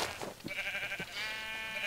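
A sheep in a survival video game gives a drawn-out, wavering bleat, fairly faint behind a few soft clicks and game noises.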